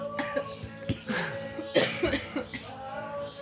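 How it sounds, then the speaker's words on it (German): Several rough, throaty coughs burst out close to the microphone, separated by short pauses, with brief throat-clearing and a voice talking in between. "Du hast einen verabschiedenden guten Huster."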